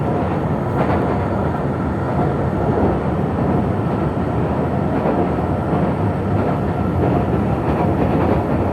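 A KRL commuter train runs between Solo and Jogja with a steady, loud rumble of wheels on rails that continues without a break throughout.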